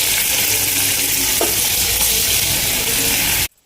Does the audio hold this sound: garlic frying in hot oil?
yes